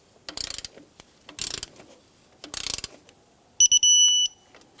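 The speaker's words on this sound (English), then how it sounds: "So I'm going to torque up the alternator adjusting bolt, and that's 22 foot-pounds." A torque wrench tightens the alternator adjusting bolt to 22 foot-pounds on a 2004-2009 Subaru Outback, giving three close, crisp bursts of rapid ratcheting clicks, then a short sharp metallic click and ringing tone as it reaches torque.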